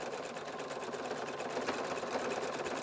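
A Husqvarna Viking Designer Diamond embroidery machine stitches a design with a fast, even mechanical whir and rapid needle ticking, steady and close, with no talking.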